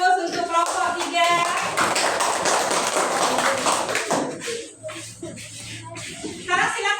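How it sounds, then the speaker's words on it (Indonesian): A classroom of students applauds for group 3: a dense burst of many hands clapping close by for about four seconds, then fading out, with voices chattering before and after. "Kita kasih aplaus untuk kelompok 3."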